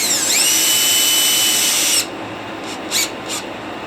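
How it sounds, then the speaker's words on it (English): A power drill driving screws into silicone whines at high speed for about two seconds, then stops, followed by a few short bursts of the motor. "drill them into that silicone"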